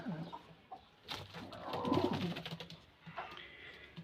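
Sonchiri pigeons in a breeding cage, soft low cooing close by in a short burst amid faint background rustling and ambient noise.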